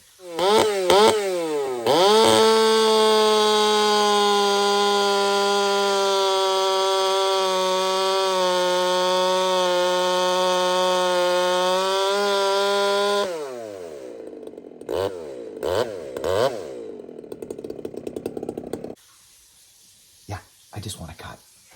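A Makita chainsaw fitted with an aftermarket pipe revs sharply, then holds a loud, sustained high-revving buzz for about ten seconds before dropping to a burbling idle with a few blips as the engine winds down.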